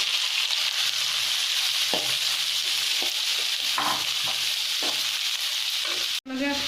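Sliced onions fry in hot oil with mustard seeds for an egg roast, a steady close sizzle with a few scraping stirs and a brief clatter near the end, no voices.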